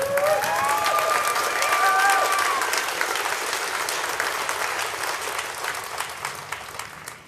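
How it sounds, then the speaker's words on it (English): A crowd at a Lights For Liberty rally in Salt Lake City, Utah, applauds with sustained, dense clapping and a few whistles, slowly thinning out toward the end. "Please give yourselves a round of applause for your collective hope"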